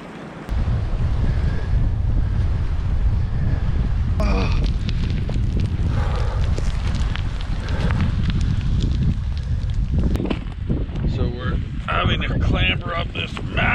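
Strong wind buffets the microphone at an exposed, windy spot beside a massive rock pile esker in Canada's northern wilderness, a loud continuous roar with gusts throughout.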